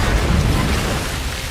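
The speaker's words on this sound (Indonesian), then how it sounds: "menenggelamkan U-boat itu dengan beberapa tembakan dari senjata kaliber 5 inci" Booming 5-inch naval gunfire from the film Greyhound, striking a U-boat: a dense, loud, rumbling roar that fills the full second and a half with no talk.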